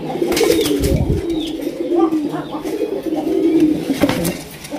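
Pigeons coo at a pigeon farm, a low continuous warbling from many birds throughout, with soft rustling and faint background noise.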